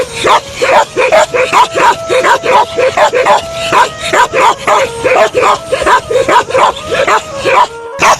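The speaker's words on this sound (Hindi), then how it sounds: "इनके कुत्ते बड़े खतरनाक कुत्ते होते हैं" Bakarwal guard dogs bark and yip in a rapid, repetitive series of loud, close barks, with some whimpering mixed in, over nearly continuous sound.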